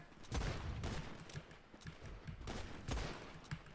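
Bursts of gunfire from a shooting video game, several rapid volleys with short gaps, fairly faint and echoing, with no talking.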